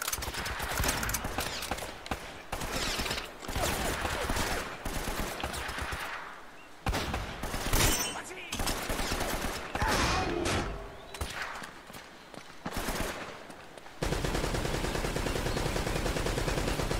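Heavy machine gun fire in Uncharted: Drake's Fortune, with long, loud, dense bursts broken by brief pauses, followed by a steady sustained roar at the end.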